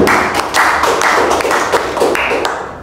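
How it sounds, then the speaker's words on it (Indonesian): Classroom applause for a student, a short burst of brisk clapping from a small group, close and fairly loud, tapering off toward the end. "Boleh tepuk tangan buat Mbak Farah"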